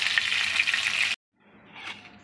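Fish sizzles loudly in hot mustard oil in a wok for about a second, then the hiss cuts off into silence before a fainter, softer sizzle returns.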